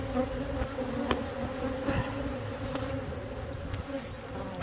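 A steady, close droning buzz of many honey bees continues throughout, with occasional faint clicks and knocks and no talking.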